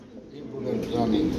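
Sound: pigeons cooing

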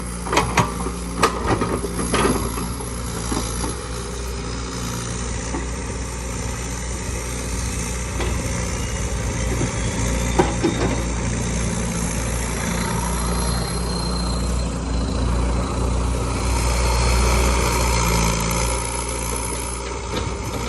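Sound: excavator engine revving at about half throttle

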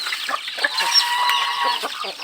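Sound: chickens

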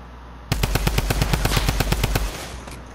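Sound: gunfire in the video game Fortnite

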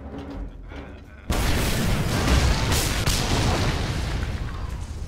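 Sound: fireworks exploding in video game

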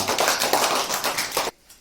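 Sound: children clapping hands

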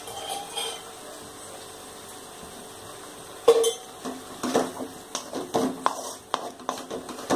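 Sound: sautéing ginger in oil in a pan

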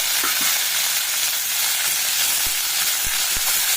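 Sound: onion, tomato and dal sautéing in oil

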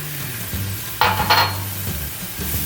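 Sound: whisking tarhana soup with a wire whisk

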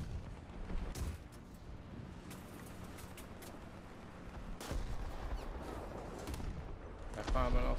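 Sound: mortar firing in video game War Thunder

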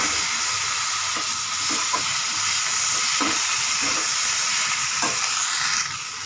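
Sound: tomatoes frying with turmeric in pan for capsicum curry

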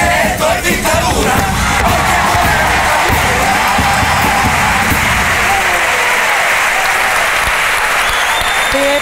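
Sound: theatre audience applauding a Cádiz carnival chirigota pasodoble

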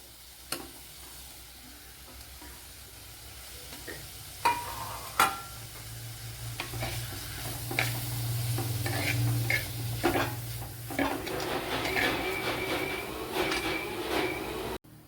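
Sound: onion and coconut frying and stirred in a pan

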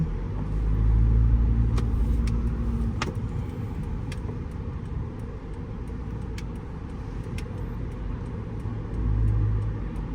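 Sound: Sunday road traffic

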